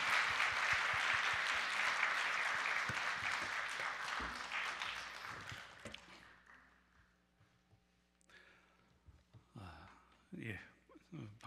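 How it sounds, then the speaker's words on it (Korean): A church seminar audience claps to welcome a pastor, dense applause filling the first half and fading out, followed by someone speaking close to the microphone. "우리 박수로 환영하도록 하겠습니다"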